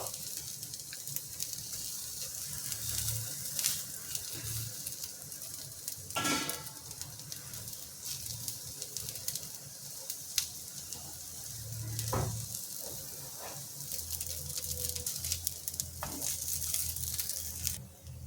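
Soya cutlets shallow fry in oil in a pan, giving a quiet, continuous sizzle with occasional scraping and turning clatters from a utensil, and no voices over it.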